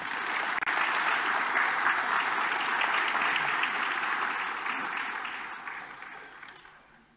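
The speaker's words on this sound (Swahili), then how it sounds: "Makofi mengi." A gathering hearing tax proposals before President Samia breaks into dense applause from many hands, loud and sustained at first, then gradually thinning and fading away toward the end.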